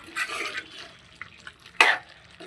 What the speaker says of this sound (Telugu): ఒకసారి ఫ్రై చేయండి